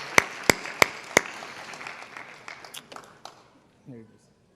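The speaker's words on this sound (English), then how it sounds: "Let's give one more round of applause to all of our students tonight" Clapping for students at a Board of Education meeting: a few sharp, loud claps up front, then scattered applause that thins and fades out to quiet.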